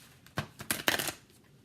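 Tarot cards being shuffled, a few quick soft riffling bursts close by and fairly quiet, with no voices.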